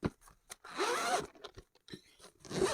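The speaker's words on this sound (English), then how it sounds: "Undo the zipper here." A zipper on a headphone case is pulled open in several short, scratchy bursts, close up and fairly quiet.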